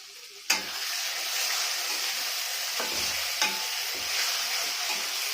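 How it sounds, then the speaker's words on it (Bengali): Tomatoes fry with mutton in a hot pan, a loud steady sizzle that jumps up sharply as they go in, with occasional stirring scrapes underneath and no talking. "টমেটোটা দিয়ে আবার একটু ভেজে নেব"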